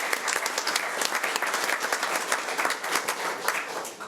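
Audience at a school board of education meeting applauding Kaiser school, a full room clapping loudly and continuously with crisp individual claps standing out, tapering slightly at the end.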